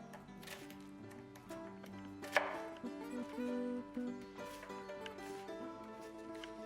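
A sharp knife cuts through a fresh onion in a run of quiet, crisp chops with one sharper strike, over faint steady tones in the background.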